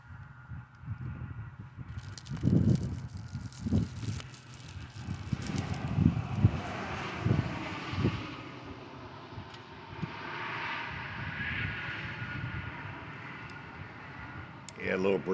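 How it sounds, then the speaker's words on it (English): Outdoor breeze rushes and buffets a microphone steadily for the whole stretch, with louder gusty swells mixed with low rumble and occasional handling bumps. "a little breezy out here"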